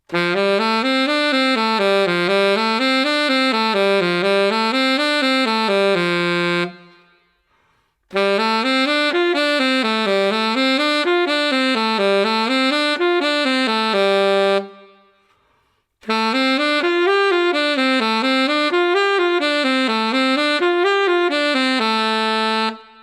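A saxophone plays a rising and falling major pentatonic scale pattern in steady runs, repeated three times with short pauses between phrases, loud and solo.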